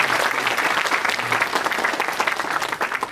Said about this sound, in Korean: 우리 자기 옆에 있는 친구들한테 뭐 박수 한번 쳐줍시다